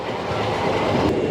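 The Tungabhadra Express runs on rails near Mahabubnagar, a steady loud rumble with clickety-clack of wheels heard from on board, continuous and alone.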